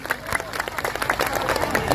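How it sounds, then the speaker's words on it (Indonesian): An audience at a community gathering of Sungai Siri residents claps for the event organizers: a dense, steady burst of applause with crowd murmur mixed in, lasting the full two seconds. "Sepeda lagi tepuk tangan untuk panitianya."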